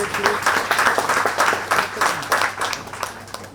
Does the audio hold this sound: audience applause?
yes